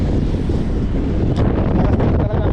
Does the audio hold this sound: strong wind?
yes